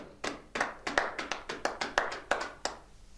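A church congregation claps together in acclaim of the Lord, about a dozen sharp, evenly spaced hand claps in a brisk steady rhythm, fairly close, then stopping.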